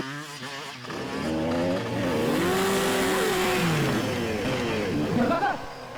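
A motorcycle engine revs hard during a dangerous stunt ride in a Hindi crime drama, its whine sweeping up and down in pitch, loud and sustained for several seconds over a dense background.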